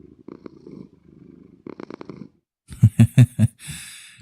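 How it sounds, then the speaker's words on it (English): A Siamese cat purrs in the Minecraft game, rhythmic rumbling pulses in short bursts with gaps between, ending in a louder sequence of four or five throaty strokes and a breathy trail. "He's got a permanent purr"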